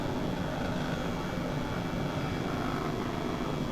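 Engine and rotor of an Airbus H135 helicopter in Microsoft Flight Simulator 2020 during low-level flight, a loud, dense, continuous turbine roar and whine with a faint steady high tone, no voices.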